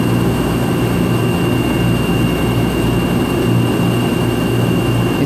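Deep hole drilling into titanium on a machine, a loud steady whirring drone with a constant high whine running throughout, no breaks or talking.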